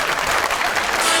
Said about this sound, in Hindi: एंजेलिना के लिए तालियां।